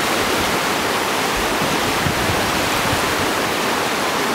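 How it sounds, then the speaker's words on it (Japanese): Rushing snowmelt river near Grindelwald, its murky water roaring in a loud, dense, continuous wash close by, with no other sounds. "すごい川ですね。 雪解け水ですね。"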